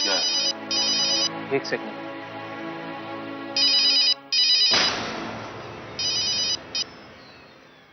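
Phone ringtone for an incoming call, a loud electronic ring in short repeated bursts, pausing and then resuming several times, with a brief spoken phrase in between.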